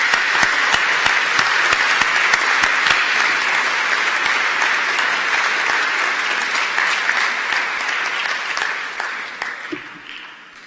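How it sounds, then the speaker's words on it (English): Audience at a City of Glasgow College graduation ceremony breaks into sustained, loud applause, a dense crackle of clapping that holds steady for several seconds and then gradually thins and fades out. "please give them a huge round of applause."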